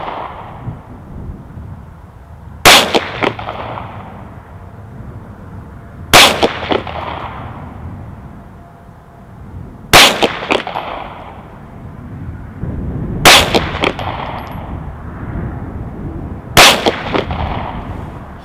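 Five loud, sharp gunshots from a SIG MPX 9mm with an 8-inch barrel firing Speer G2 147 gr rounds, evenly spaced a few seconds apart outdoors, each with a short echoing tail.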